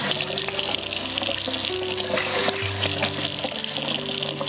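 Cold tap water runs steadily into a sink while a face is washed, with a continuous close splash, small clinks of handling and no speech.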